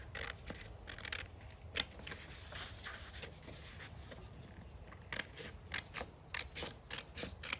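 Scissors snip paper for a toilet paper roll deer craft, a run of quick, close cuts with a pause midway, then a denser cluster of crisp snips, with no voices over them.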